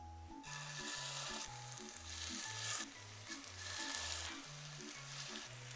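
Meatballs frying in a little oil in a heated pan over moderate heat, a steady close sizzle with soft crackles throughout, accompanied by a quiet rhythmic melody in the background.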